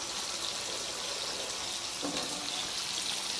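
Water poured over dried black trumpet mushrooms in a bowl, a steady broadband rush of filling liquid that runs unbroken and fairly loud from start to finish.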